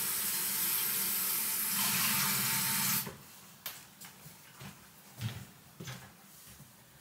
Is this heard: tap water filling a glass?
yes